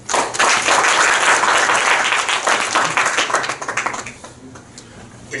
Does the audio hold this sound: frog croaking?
no